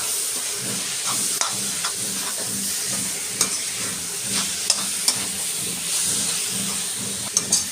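Modak filling with poppy seeds is stirred in a hot pan, producing a continuous hissing sizzle with scattered scraping clicks from the spoon, close and fairly loud, no speech.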